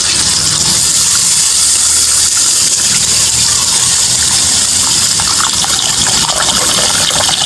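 Water pours and gushes loudly into a cooking pot holding pork for a Filipino pork bas-oy, a continuous splashing rush at close range with no pauses.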